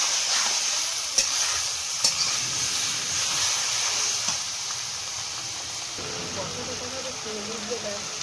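Duck meat frying in a pot with cinnamon, bay leaves and whole garlic over a wood fire, a steady loud sizzle and hiss with occasional stirring knocks throughout.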